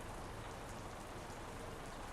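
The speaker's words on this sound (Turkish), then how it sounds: "Bir yandan yağmur da yağıyor." Rain in the truck-driving video game Euro Truck Simulator 2, a dense, even hiss of falling rain on surfaces, steady and unbroken without any voices.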